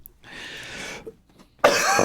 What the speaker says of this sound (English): Stop coughing into it.